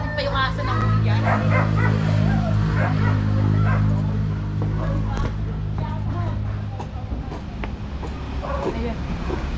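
A dog barks and yips repeatedly in short bursts, with occasional whimpers, close by and fairly loud under steady background hum and people talking.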